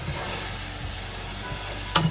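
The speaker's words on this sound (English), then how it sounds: "Try to brown up the meat there." Ground beef browns in a pan for a keto broccoli slaw stir fry, giving a steady close sizzle and frying crackle throughout, with a brief louder clatter near the end as the meat is stirred.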